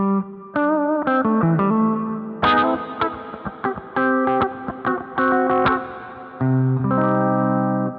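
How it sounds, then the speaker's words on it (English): Guitar notes and short phrases run through a wah low-pass filter effect on a Kemper Profiler, giving a muffled, swept tone with brief gaps between the phrases. "the wah low pass, which adds this one."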